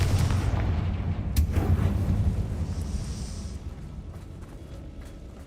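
A Confringo blasting spell goes off in the video game Hogwarts Legacy: a loud, booming blast with a deep rumble that slowly fades over several seconds, with a sharp crack partway through.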